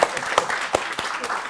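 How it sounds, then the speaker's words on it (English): A small group at a tabletop role-playing session gives a brief round of applause, a few scattered claps heard close up, with people talking at the same time. "A round of applause for Nave, everyone."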